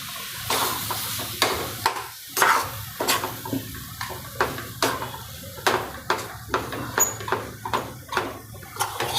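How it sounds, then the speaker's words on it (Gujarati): Milk splashes into gram flour roasting in a pan for barfi. A spoon scrapes and stirs in a steady, close rhythm over a low sizzle. "ત્રણ ચમચી આપણે દૂધ નાખવાનું"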